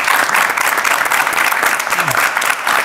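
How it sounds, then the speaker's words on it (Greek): Studio audience at a Greek comedy game show breaks into steady, dense applause that holds at full strength for the whole stretch, close and loud with no pause. "Για να δω το χειροκρότημα"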